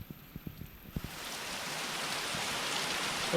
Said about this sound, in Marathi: मस्त पावसाला सुरुवात झाली.